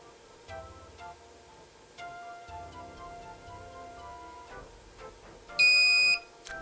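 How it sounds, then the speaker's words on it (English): A short, harsh electronic buzz from the buzzer of a Gikfun 60-second timer kit sounds loudly near the end after a stretch of quiet ticking and faint electrical hum. "the poor little buzzer sounds very sad"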